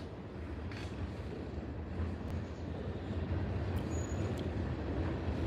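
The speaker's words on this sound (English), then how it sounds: "I think this is a mix, loads and empties on this train" A mixed freight train of loaded and empty cars rolls past at a distance, heard from a porch as a steady broadband rumble with faint metallic squeals and no talking.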